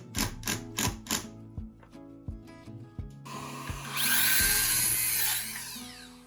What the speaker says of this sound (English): I pull it up with screws to straighten it out